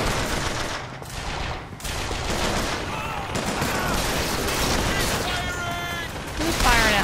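Sustained automatic gunfire in BioShock Infinite, dense rapid shots that continue throughout, mixed with game effects and a voice talking over it.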